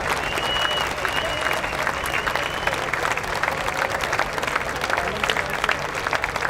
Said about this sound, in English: You get an applause on that one.